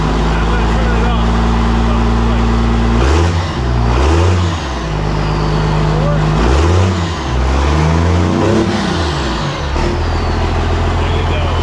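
A Cummins 12-valve diesel engine in a Ram truck idles loudly nearby, then is revved twice in strong surging bursts that rise and fall before dropping back to a heavy rumbling idle.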